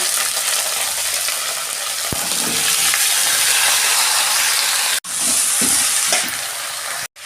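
Vegetables dropped into hot oil for a vegetarian daliya, a loud, dense hissing sizzle that holds steady for several seconds, with a couple of sharp clicks and brief cutoffs near the end.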